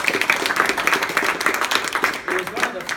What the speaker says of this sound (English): I'd just like to give the club in general a round of applause